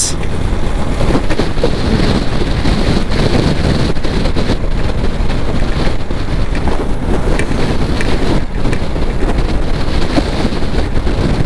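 Fierce wind batters the microphone where a motorbike can no longer move forward against it, producing a steady, loud, low roar that fills the whole stretch without any voices.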